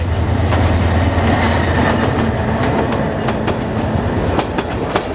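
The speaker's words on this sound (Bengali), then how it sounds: "আন্তনগর বিজয় এক্সপ্রেস ট্রেনটি ব্রাহ্মণবাড়িয়া স্টেশনে প্রবেশ করল।" Intercity Bijoy Express train entering Brahmanbaria station on a curve, a loud, steady rumble of rolling wagons with repeated clickety-clack wheel beats and occasional squeals, close by with no talk.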